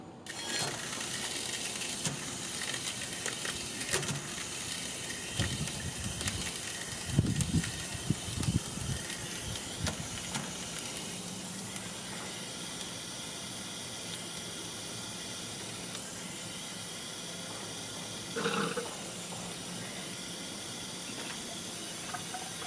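Garden hose water runs into the cooling system of a B16A-engined Honda CRX, a steady broadband hiss and splash lasting throughout, with a few louder gurgling bursts and some handling clatter nearby.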